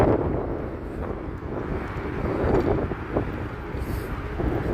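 Strong wind buffets a microphone outdoors on a bike ride in Chicago, a constant low roaring rumble with gusty swells throughout and no voices.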